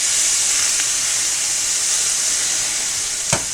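Water splashed into a hot pan of Brussels sprouts gives a steady, loud steaming hiss and sizzle that holds level throughout, with one brief sharp crackle near the end.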